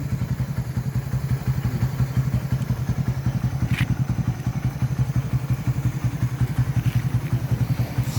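A Raider 150 FI fuel-injected motorcycle engine idles close by, a steady rapid low thumping pulse with light clatter that holds even throughout, with no talk.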